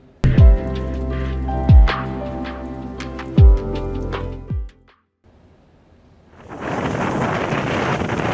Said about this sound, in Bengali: এ সময় ভারী বৃষ্টির কবলে পড়ে উপকূলীয় এলাকা।